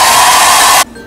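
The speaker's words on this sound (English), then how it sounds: "So I'm just going to blow dry my hair as per how people normally do." A bronze satin hair blow dryer on its high setting gives a loud, steady rushing roar close by, then cuts off abruptly, leaving only a faint hum.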